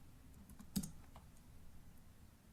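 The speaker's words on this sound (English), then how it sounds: "typing in the file name" A file name is typed on a computer keyboard in quick, quiet, close keystrokes, with one louder click near the start.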